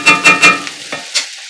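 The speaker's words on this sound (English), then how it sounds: "I'm going to let it cook on low heat for another 3 minutes. And then we'll be ready to take it off the stove." Ground pork cooking on low heat in a pan on the stove for tacos, with three quick loud scraping stir strokes followed by softer scrapes over a fading sizzle, up close and without talk.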